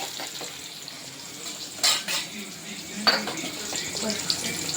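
Mustard seeds, chopped onion and green chillies are stirred in a pan over a soft steady sizzle, with a couple of sharper utensil scrapes against the pan; the sound is fairly quiet and close.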